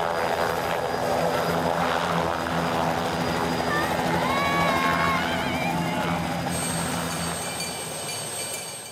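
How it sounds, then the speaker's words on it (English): A helicopter's rotor chop and engine drone fill the air steadily as it lands at a primary school, with excited crowd voices and chatter of pupils mixed underneath. "Soon, the helicopter was in sight. It landed to the warmest of receptions."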